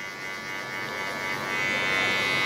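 Hair clipper fitted with a number 2 guard and its taper lever fully open, buzzing steadily and close up as it cuts hair, the hum rising slightly louder toward the end.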